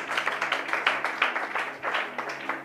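A church congregation claps together in a quick, slightly uneven rhythm, steady and fairly loud, filling the room with no speech over it.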